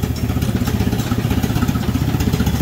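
A McCormick AW6 tractor engine idles close by with a loud, fast, regular chugging pulse and a rattly low-end throb that stays steady throughout.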